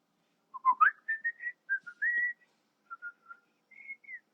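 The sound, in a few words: person whistling a tune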